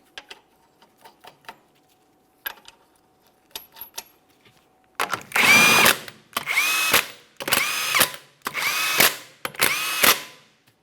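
A power drill or impact tool runs 21mm lug nuts onto a 2008-2017 Mitsubishi Lancer 2.4L rear wheel: faint clicks and rattles first, then five loud, close bursts of whirring, one after another.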